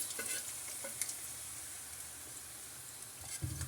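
Thinly sliced potatoes fry in a pan for a cheesy potato and egg dish, giving a steady close sizzle with a few light scrapes and clinks of stirring.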